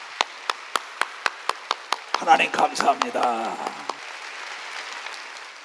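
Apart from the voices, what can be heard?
church congregation clapping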